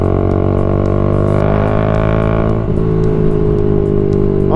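A Bajaj Dominar 400 motorcycle engine roars steadily and close during a test ride, holding a loud, even drone as it accelerates, with a slight dip midway before pulling on again.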